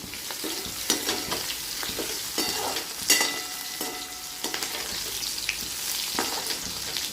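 Brinjal sautéing in a pan for chutney, a steady close sizzle and crackle with occasional stirring scrapes and spatula clicks throughout, no voices.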